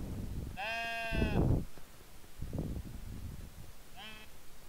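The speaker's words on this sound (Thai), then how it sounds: "sheep ตัวนี้เป็นแกะเนาะ sheep" A sheep bleats twice, first a long wavering bleat and then a shorter one a few seconds later, with a voice speaking briefly in between.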